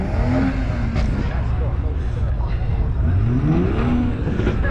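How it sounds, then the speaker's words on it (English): Tuned cars at Tunerfest at Brands Hatch, with engines revving in rising sweeps over constant crowd and engine din and chatter nearby. "I can hear some revolutions up here"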